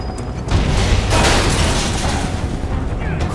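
Gunfire in Final Fantasy 7 Remake erupts about half a second in as a loud, dense burst of booming shots that carries on steadily to the end, with voices faintly present around it.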